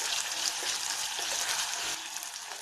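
Onions sautéing in a pan for Tamil tomato kulambu, giving a steady broadband sizzle with a brief dip near the end, close and continuous, with no talking.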